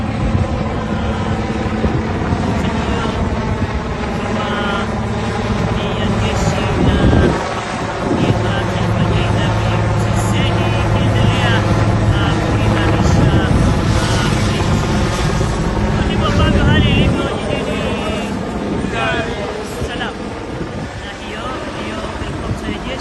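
A military helicopter circles over the Mbezi area of Dar es Salaam, its loud, continuous rotor and engine roar filling the whole stretch while someone talks over it.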